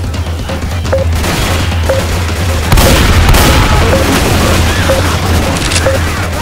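Gunfire in Left 4 Dead 2: a steady wash of dense, booming shots with a sharper burst in the middle, and a player's brief voice heard over it.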